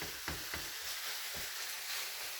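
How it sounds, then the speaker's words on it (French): Seasoned minced meat for lasagne, salted and peppered, sizzling steadily in a hot pan with a broad hiss, punctuated by a few soft scraping strokes of stirring, quiet and close. "on mélange encore un petit coup."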